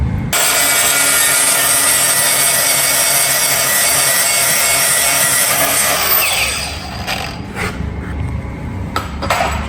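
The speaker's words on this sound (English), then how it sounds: "Just trying to get some of that coating off." Continuous harsh scraping and grinding on a part of a 1974 Dodge Charger to strip its coating, loud and steady for about six seconds, then fading into scattered clanks and taps.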